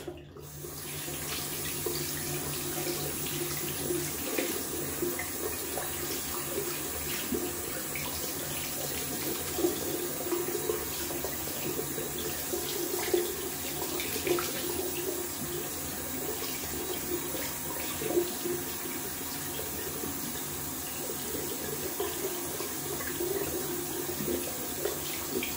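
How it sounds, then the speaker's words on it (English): Tap water running steadily into a sink while a shaving brush is rinsed, a constant close hiss and splash lasting the whole stretch with no talking. "I'm gonna rinse out the brush while this thing is doing its job."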